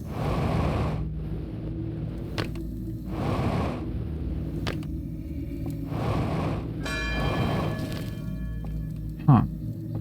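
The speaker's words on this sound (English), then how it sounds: "Did I just activate the bell by myself?" A deep bell tolls in the video game Outer Wilds, struck repeatedly at a slow, even pace with a long, resonant hum between strikes and no voices.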